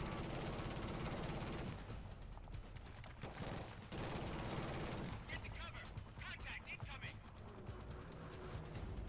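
Rapid gunfire crackles in Killzone Shadow Fall, bursts of automatic shots loud and dense through the whole stretch, with a voice talking over the combat.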